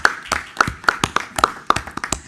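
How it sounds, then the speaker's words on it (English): A handful of people at a school board meeting clap for the school golf team, a sparse, irregular patter of distinct individual claps close by, fairly quiet and thin rather than a full crowd. "So give them a round of applause."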